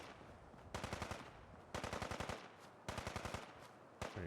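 Gunfire in the video game Fallout: London, four separate bursts of rapid automatic fire, each about a second long, with short pauses between them and a low background hum.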